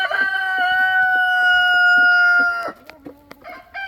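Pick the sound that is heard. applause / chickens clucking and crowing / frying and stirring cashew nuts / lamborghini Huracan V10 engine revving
chickens clucking and crowing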